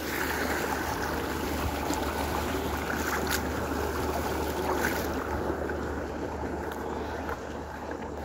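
Water running through an irrigation channel in an open field, a steady close rushing wash that holds even from start to finish, with no talking.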